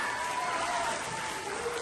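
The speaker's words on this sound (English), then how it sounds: "A big clap!" Brief clapping from a class audience after a correct maths olympiad answer, a short burst of applause with faint voices mixed in.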